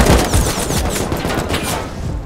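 Dense, continuous automatic rifle fire from an AK in the survival video game Rust, loud and close with rapid overlapping shots and no talking.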